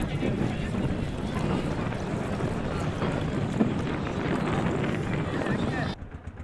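A boat ride on the river at Jaflong, Sylhet: a steady engine-and-water rumble with heavy wind buffeting the microphone throughout and muffled voices beneath, easing off in the final half second.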